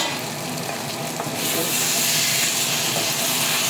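Food sizzles in a pan in a home kitchen as it is stirred, giving a steady, fairly loud hiss that swells slightly partway through.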